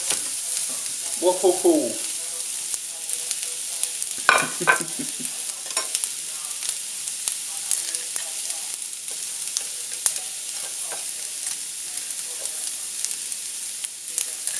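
Fresh prawns dropped into a paella pan hiss into a loud, steady sizzle with stirring, while a person briefly exclaims in surprise partway through.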